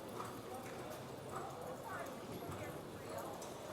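A cutting horse working a cow in a pen, hooves clip-clopping steadily in the dirt amid a broad, continuous arena noise at moderate distance, with talk over much of it.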